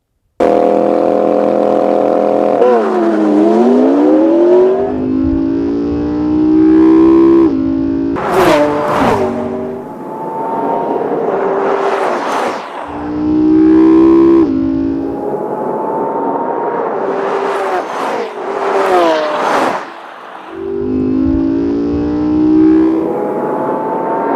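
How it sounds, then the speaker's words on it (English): Lamborghini Aventador V12 launching hard off the line in a race, loud revving bursts with rapid gear-change swoops and repeated surges of acceleration, alone without talk. "the Lambo has all-wheel drive, which means it goes pew, right off the line"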